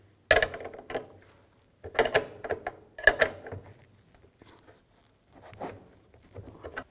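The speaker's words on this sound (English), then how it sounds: "take a 19mm wrench and snug these up" Fittings on a new radiator for a 2000-13 GMC Yukon snugged up with a 19mm wrench: several short bursts of ratcheting clicks separated by pauses, close and fairly quiet, with no talk.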